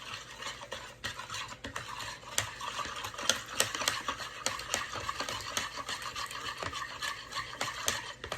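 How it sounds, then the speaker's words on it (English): A whisk beats the ingredients for a hamburger potato casserole in a bowl, with rapid rhythmic scraping and ticking against the sides, close and steady throughout. "now we're going to just whisk this all together"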